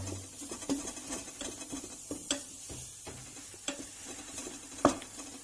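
Flour is stirred in a pot over low heat for halva pudding, making soft, irregular scraping and light ticking spoon sounds, faint and close, with no voices.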